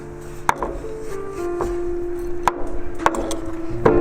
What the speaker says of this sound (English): Got the chilli, it's dried. Again, you just chop it up in little pieces.